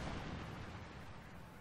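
An explosion in Company of Heroes 2 throws debris, heard as a dense, fairly faint rumbling roar that stays even from start to finish.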